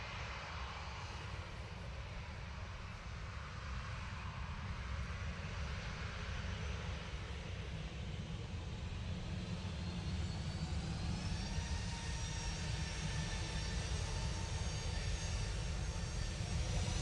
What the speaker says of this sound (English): Ryanair going off to Riga now.